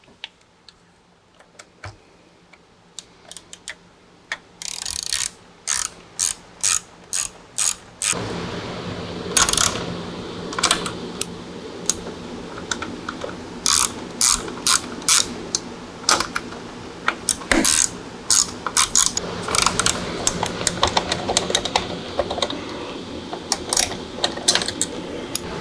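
Screws tightened while installing a Sony DSX-M80 stereo in a Harley-Davidson Touring fairing: a long series of close, sharp ratcheting clicks in irregular bursts, after a quiet start, with no talk.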